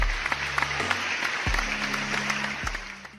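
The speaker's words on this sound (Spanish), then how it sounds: "Recibamos con un fuerte aplauso a la doctora Leila." Audience applause greets a forensic sciences specialist at a conference on care for victims of sexual violence: steady dense clapping throughout, with low tonal hum from the room underneath.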